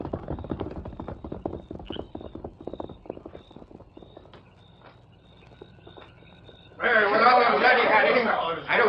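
Horse hooves clip-clopping on a Western trail under steady spoken dialogue and a music bed, the hoofbeats rhythmic and fairly close, with a louder rush of noise rising near the end.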